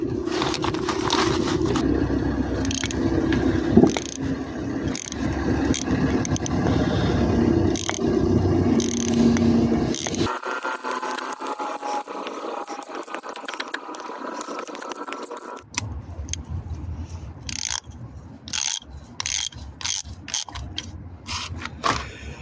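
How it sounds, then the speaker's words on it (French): A ratchet wrench loosens the oil filter housing on a Volkswagen Golf 4 1.4 16-valve, giving bursts of rapid clicking and mechanical scraping up close, with a quieter stretch in the middle before the clicking resumes. "Et j'utilise une clé à cliquer pour le desserrer."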